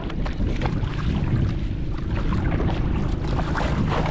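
Small wooden bangka on open water off Alibijaban Island, with a steady low engine-like rumble and constant splashing and wind buffeting throughout, close and loud with no talk.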